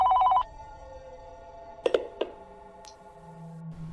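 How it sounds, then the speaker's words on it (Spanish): A short electronic telephone ring at the start, followed by a few sharp clicks and knocks in a quiet room with a low hum. "el teléfono sonó"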